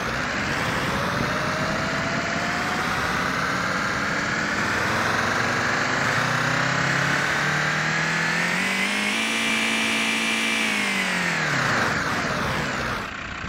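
Simulated diesel truck engine from a Sense ESS Dual+ sound generator, a loud continuous synthetic rumble that revs up and holds high before winding back down near the end, heard alone without talk.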